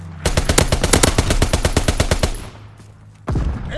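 Strafing gunfire from a fighter plane in the Call of Duty WWII video game: a loud, rapid burst of roughly twenty evenly spaced shots lasting about two seconds, then a brief lull before another blast starts at the end.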